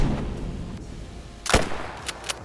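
A single hunting rifle shot rings out at an antlered animal in a hunting video game, one loud close crack over low ambient hum, followed by two faint ticks.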